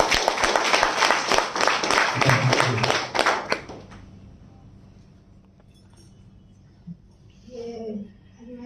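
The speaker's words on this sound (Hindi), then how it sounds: "जोरा तालियों के साथ में चाहूंगा।" A crowd at a product testimonial gathering applauds loudly with dense, sustained clapping that cuts off after a few seconds, followed by quieter room noise and a voice starting to speak.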